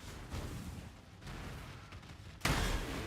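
Explosions rumble and crackle through a Path of Exile battle, a dense continuous roar with a louder burst hitting near the end.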